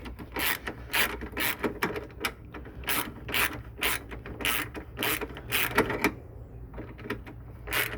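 Ratchet wrench tightening a car battery terminal on a 2014 Toyota Camry, giving rapid, repeated close-up ratcheting clicks in irregular bursts that run through the whole stretch without talk.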